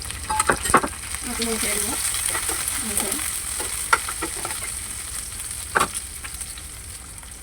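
Tengra fish and chopped green chilies fry in hot oil. A steady, close sizzle runs throughout, broken by a few stirring scrapes, with a brief, quiet voice in the background.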